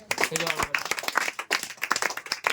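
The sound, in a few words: children clapping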